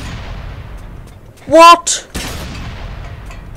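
Tank cannon shells fire in World of Tanks, two sharp heavy booms in quick succession over a low rumbling battle background, with a man's brief exclamation just before them.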